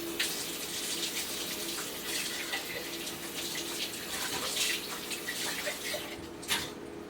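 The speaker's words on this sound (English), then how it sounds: "now I'll rinse out this jar" A kitchen tap runs steadily while a glass jar used for kefir is rinsed, giving a continuous, close rush of water with faint splashing changes throughout and no voices.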